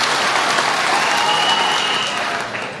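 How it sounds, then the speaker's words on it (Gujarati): Loud, dense applause from a crowd at a political rally swells and carries on for a few seconds before easing slightly at the end. "ફરી એક વખત બ્રિજરાજભાઈ માટે જોરદાર તાળીઓ થઈ જાય"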